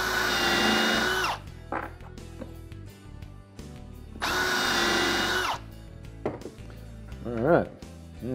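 Power drill fitted with a countersink bit boring into wood: two sustained high whirring bursts separated by pauses and a few knocks, heard close up, with someone talking between the drilling.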